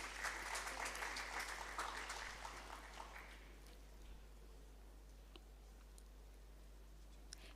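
Audience applause at an academic research summit session in a hall, a dense patter of clapping that is loudest at the start and fades out by about three seconds, leaving quiet room tone.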